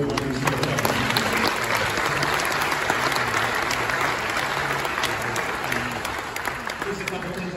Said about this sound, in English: applause for everyone who's here.